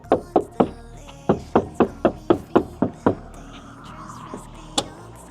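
Repeated firm knocks on a Chevrolet Tahoe door that has been fitted with sound deadening, giving a solid, dull, wooden-sounding thud. About ten knocks come in a steady run with a short pause partway through, then one louder knock after a gap.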